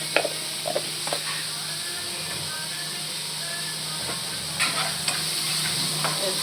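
Broccoli masala curry with a pinch of turmeric being stirred in a pan, a continuous sizzling hiss with intermittent scraping stirs, fairly loud and alone without speech.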